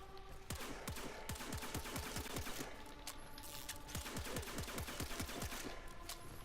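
Rapid automatic gunfire from Octavia's Metronome ability in Warframe, a fast, even stream of sharp shots repeating steadily for several seconds, fairly quiet overall.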